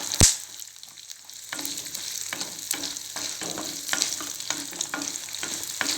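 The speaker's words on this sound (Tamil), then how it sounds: "வெங்காயம் நல்லா வதங்கி வரட்டும்." Onions sauté in a pan for a black nightshade chutney: a sharp clank at the start, then a steady sizzle with rhythmic spatula scrapes and stirring taps, close and without voices.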